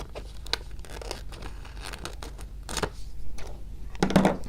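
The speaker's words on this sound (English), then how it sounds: "I need to get better mini scissors. These guys are old, super dull." Old, dull mini scissors snip through vinyl transfer tape during a stainless steel tumbler craft, giving a string of irregular close crisp cuts and crinkles that grow louder toward the end.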